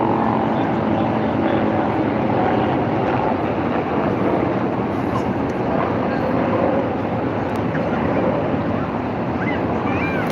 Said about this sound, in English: There's the helicopter coming in again.